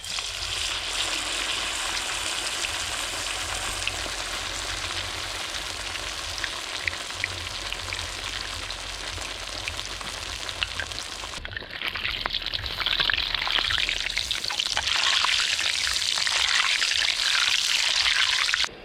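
Giant KFC-style chicken drumstick deep-frying in hot oil, a dense continuous sizzle and crackle that grows louder and brighter midway, close and steady with no voices.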